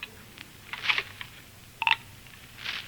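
Telephone dialing in a phone booth as a radio drama effect: a few short, spaced clicks and tones of a dial being worked, fairly quiet over a faint background hum.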